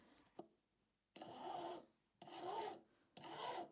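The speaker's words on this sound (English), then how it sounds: "Just trying to file them to the same size." A metal file rasps over small pieces to bring them to the same size, three distinct gritty strokes, each about half a second long, quiet and close, with short pauses and a faint tap before the first stroke.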